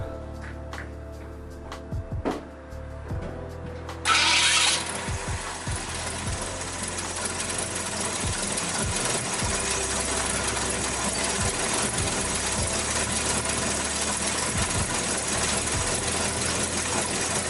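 A Ford 390 FE V8 with a carburetor and unset timing starts up and settles into a steady, rough-idling rumble with a deep exhaust drone, close and loud, no talking.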